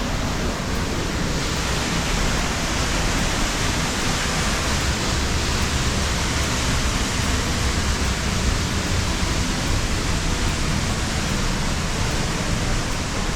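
Waterfall at Ammococan Falls roaring in a steady, dense broadband rush that holds without a break, close and loud, with no voices.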